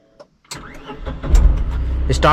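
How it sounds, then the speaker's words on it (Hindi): A Tata Nano car engine is started: a brief click, then the starter cranks and the small engine catches, rising into a loud, steady idle close by, with someone speaking over it. "गाड़ी को कर देना है स्टार्ट। देखो अभी करता हूँ स्टार्ट"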